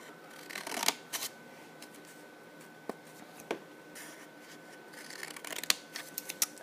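Scissors cut part of the way across folded paper pages to make a flip booklet. Quiet snips and paper rustles come in short bursts with pauses between them, close by.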